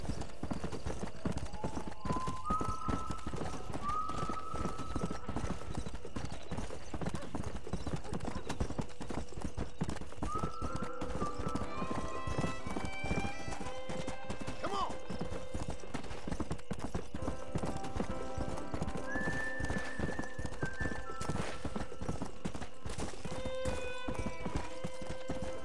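Steady rhythmic hoof clip-clop from a horse at a trot in the video game Red Dead Redemption, continuous throughout, with faint tonal music-like sounds layered in the background.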